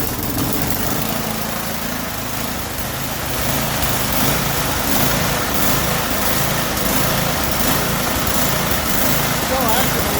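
A Yardman snow blower's small engine runs loud and steady right after a pull start, a continuous close-up drone with a slightly uneven, rough-running character throughout.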